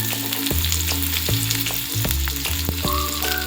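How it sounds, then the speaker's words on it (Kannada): Chopped onions frying in hot oil with curry leaves: a steady close sizzle broken by repeated scraping stirs of a spatula against the pan, loud and continuous, with no talking. "ಇದು ಫ್ರೈ ಆಗಿದೆ ಇವಾಗ ಈರುಳ್ಳಿ."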